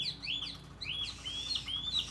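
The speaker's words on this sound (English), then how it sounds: "We've got several different kinds of birds here this morning." Several different kinds of birds sing in the morning, with bright chirps and whistled phrases repeating over about two seconds above a steady low background hum.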